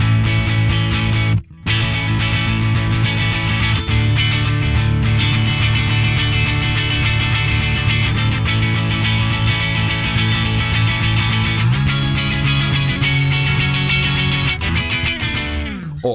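Subtle, almost clean overdriven electric guitar through a NUX Cerberus multi-effects pedalboard, strummed chords sustained continuously and loud for about sixteen seconds with one brief dropout near the start, no voices.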